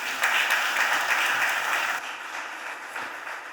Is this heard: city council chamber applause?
yes